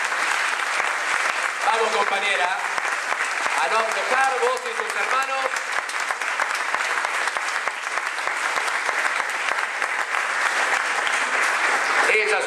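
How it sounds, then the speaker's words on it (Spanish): A crowd at a political militancy gathering applauds loudly and continuously, a dense roar of clapping with shouting voices and a chant-like call rising over it. "te damos un fuerte aplauso de acompañamiento"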